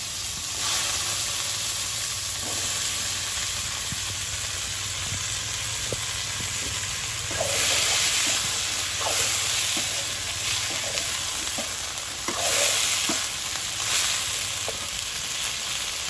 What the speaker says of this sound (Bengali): তেল হয়ে গেছে গরম, তো নলির লগে দিয়ে দিচ্ছি বরবটিগুলো।